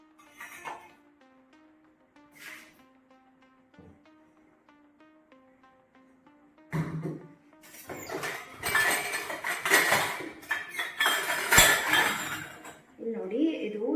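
Dishes and pots clink and clatter as they are set upside down in the racks of a Bosch dishwasher, with brief metallic knocks early and a louder burst of rattling later, mixed with a speaking voice.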